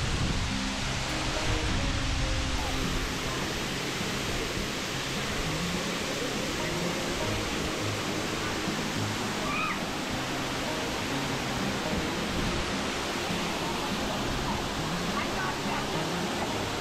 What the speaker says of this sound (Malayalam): ശരിക്കും ക്യാമറയിൽ ഒതുങ്ങാത്തൊരു വെള്ളച്ചാട്ടം